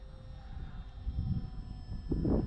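An FMS Piper J-3 Cub RC model airplane flies aerobatics at a distance, its small engine giving a faint, steady buzz that swells a little near the end.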